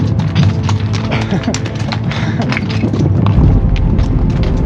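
A horse walking on a mountain trail in the Rockies during solo horse packing. Steady, loud hoof clops and trail noise run throughout, close by, alongside other outdoor sounds.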